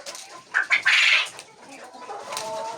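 Laying hens such as Lohmann Sandy and Lohmann Brown cluck on a small poultry farm, with a burst of loud, close clucking in the first second and quieter hen calls and farmyard noise continuing afterward.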